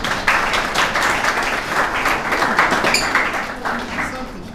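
An audience applauds after a speech at a gathering. Many hands clap in a steady, dense burst for several seconds, close and fairly loud, then taper slightly.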